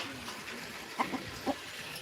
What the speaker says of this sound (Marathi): कोंबडा आला